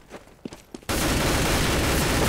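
Gunfire in the video game CS:GO: a few sharp separate shots, then a sudden loud, dense, continuous burst of rapid automatic fire filling the rest of the moment.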